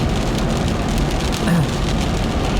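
Steady rain falls on a car driving along a country road with high ditches after a night of snow, a dense, constant hiss and patter with low road rumble throughout.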